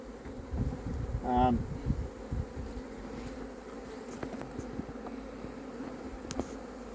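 Honey bees drone around an open apiary hive in a steady, close buzz, with a brief louder pass as one flies near the microphone, and faint handling noises underneath.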